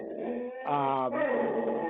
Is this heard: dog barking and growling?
yes